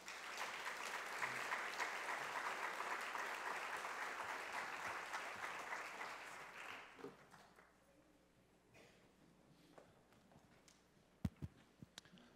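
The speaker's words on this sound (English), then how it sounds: "please give him a round of applause as he comes forward" An audience at an education conference panel on restorative justice in schools applauds a moderator as he comes forward, steady dense clapping for about seven seconds that then fades into scattered claps and room noise.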